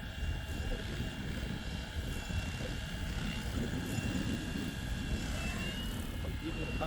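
A 3D-printed Flywing MD500 RC helicopter flies with a steady high-pitched rotor and motor whine under constant wind rumble, the pitch shifting slightly as it maneuvers.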